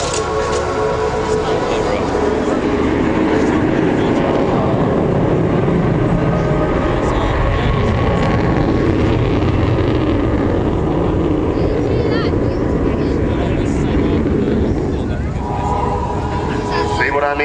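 An Avro Vulcan bomber powered by four Rolls-Royce Bristol Olympus 202 engines passes at an air show, a loud, continuous broadband jet roar that holds for the whole stretch while a commentator talks over it.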